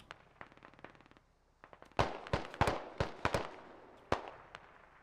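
Grenades bursting in a Squad video game battle: a faint rapid crackle gives way to a string of loud, sharp blasts landing in close succession, with one more explosion after a brief pause.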